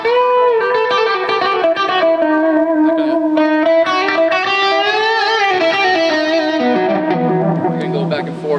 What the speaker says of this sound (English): this is my full-on distorted rhythm sound